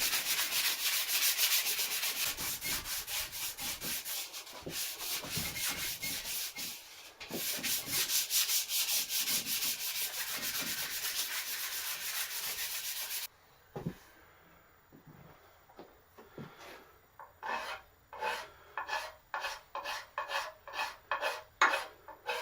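An axe head is sanded by hand with 120 grit sandpaper, dense scratchy rasping for roughly thirteen seconds, then a quieter run of separate rhythmic strokes, close and unaccompanied by talk.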